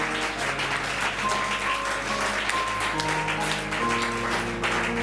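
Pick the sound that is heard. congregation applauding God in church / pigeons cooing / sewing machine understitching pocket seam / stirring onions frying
congregation applauding God in church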